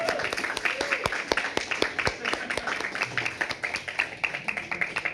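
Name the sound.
audience clapping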